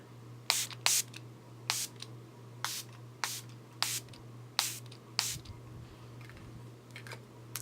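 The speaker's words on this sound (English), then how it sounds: "you know, sometimes you just gotta shower yourself in setting spray" Makeup setting spray misted onto a face, about ten quick hissing spritzes in an uneven rhythm, close and crisp over a low steady hum.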